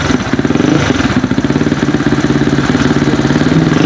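A Rusi Flash X 250cc motorcycle with a silencer and a stuck injector runs loud and close, its engine idling in a fast, even, throbbing pulse with a clattery edge and no speech.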